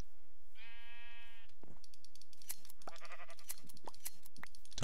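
A single bleat from a sheep in Minecraft, a short wavering tone, followed by a scatter of clicks, taps and rustles from play, with no speech.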